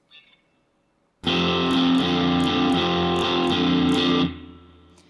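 A distorted electric guitar kicks in after a brief quiet moment, chugging a driving shuffle-style rhythm for a few seconds before cutting off.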